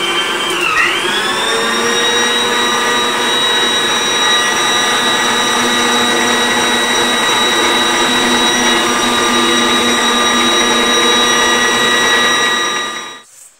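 An electric mixer kneads sablé-style ghriba cookie dough, a loud, steady motor whine with a constant pitch that runs without a break for about thirteen seconds, then cuts off abruptly at the end.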